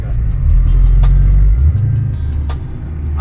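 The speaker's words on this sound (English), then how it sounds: "Warming up his tires." A Cadillac CTS-V warming up its tires, a loud low engine rumble droning steadily with faint tire noise and occasional clicks over it, close by and without speech.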